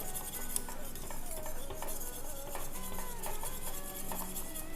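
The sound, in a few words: stirring to dissolve miso in a pot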